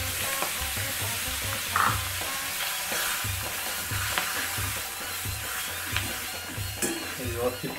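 Clams fry with masala over a high gas flame, giving a loud, continuous sizzle with scraping stirs and occasional clatter up close, with no speech.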